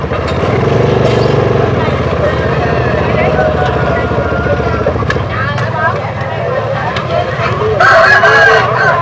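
Chickens and a rooster at a rural market area in Vietnam, crowing and clucking over a constant engine-like drone, with people talking nearby and a louder burst near the end.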